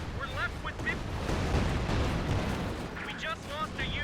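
Nebelwerfer rocket artillery in Company of Heroes 2 fires at point-blank range, a dense rumbling roar of launches and blasts under overlapping game sounds, with a commentator talking over it.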